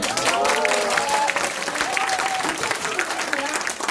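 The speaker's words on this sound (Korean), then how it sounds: "박수 한번 주세요" An audience at a company lecture breaks into applause, a dense, steady burst of clapping with a few voices mixed in, holding at full strength for several seconds.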